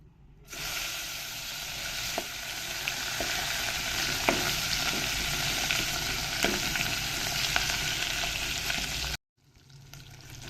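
Mutton masala roasting in a pan in a village-style home kitchen, a steady loud sizzle with faint scraping clicks, running alone for several seconds before cutting off near the end.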